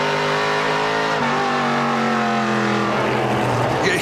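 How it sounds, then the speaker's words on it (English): NASCAR Pinty's Series stock cars in a race at the Luxuur 300, engines loud and close, revving then downshifting with the pitch dropping and a shift near the three-second mark as they brake into a corner. "You hear the rhythm these drivers get into, getting down into the corners"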